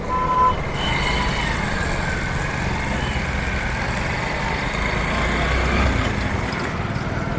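A two-wheeler motorcycle trolley fitted with an extra reverse-forward gearbox, its engine chugging steadily at idle, close and continuous for several seconds, with a brief high beep near the start.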